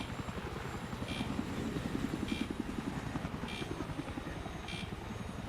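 Helicopter in the video game Battlefield 3, a steady rotor thump and engine drone running loud and continuous throughout, with faint periodic higher whooshes and no talk.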